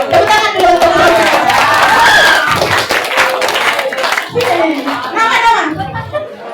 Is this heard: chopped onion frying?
no